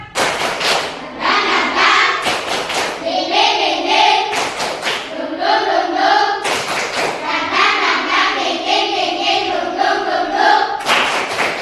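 A group claps the tepuk semangat chant in a classroom ice-breaker: sharp, loud rhythmic hand claps in repeated patterns, interleaved with voices chanting together in time.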